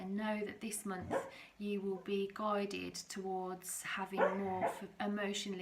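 A sleeping dog gives soft, muffled barks and whimpers while it dreams, heard faintly in the background under someone speaking steadily up close.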